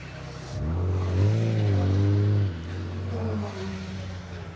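BMW M3 rally car on a circuit rally stage at Cadwell Park, its engine revving up loudly as it passes, climbing in pitch, then dropping back to a lower steady drone as it pulls away.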